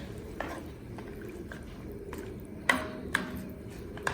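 Baby corn, broccoli and carrot are stirred in a cooking pot, with soft scraping and a few sharp clinks of a utensil against metal.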